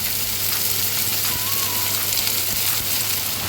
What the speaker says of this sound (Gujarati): હવે બધું આપણે એને ફાસ્ટ ફ્લેમ પર સાતડી લેશું